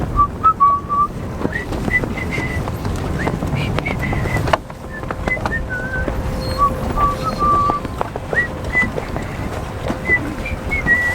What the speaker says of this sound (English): I'm going to be whistling the Italian national anthem while I do that